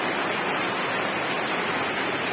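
A loud, close roar of heavy rain, an unbroken broadband rush like water pouring down, steady throughout with no voices.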